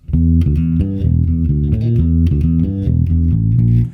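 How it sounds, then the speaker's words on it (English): Finger-played bass guitar working through a riff, a bouncy sequence of close, rounded low notes with soft attacks, played alone and clearly. "if I play with the fingers, it sounds like this"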